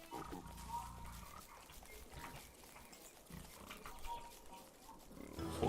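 Video game pigs oink and grunt repeatedly in short bursts, fairly quiet, mixed with soft game background sounds.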